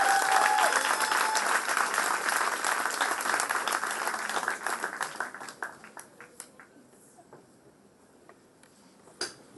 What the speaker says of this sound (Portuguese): Lá nós recebemos com aplausos.